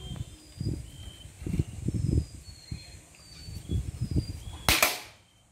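An A2K dual-propellant air rifle pellet strikes a benchrest target at 25 meters, one sharp crack near the end after several seconds of dull low thumps, with faint birdsong in the background.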